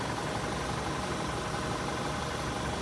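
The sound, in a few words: 2016 VW Tiguan engine idling, AC compressor off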